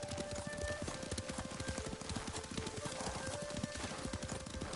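Rhythmic clip-clop of horse hooves at a steady riding pace in the video game Ghost of Tsushima, close and fairly quiet, with faint ambient tones and no talking.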